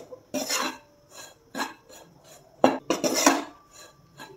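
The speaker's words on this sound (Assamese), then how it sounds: "এতিয়া পিঠাখিনি অলপ সময় ভাজি ল'ম" Rice flour is roasted in a wok for steamed ladoo, with a spatula scraping and rasping across the pan in short uneven strokes separated by brief quiet gaps.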